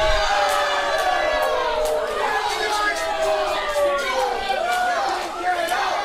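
A wrestling crowd at a pro wrestling show cheers and shouts for Sweet Scott, a dense, steady roar of voices with whoops rising over it throughout.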